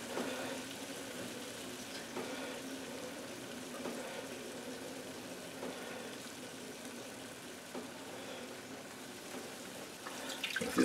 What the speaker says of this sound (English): the other half of this sink with water and the stopper in it,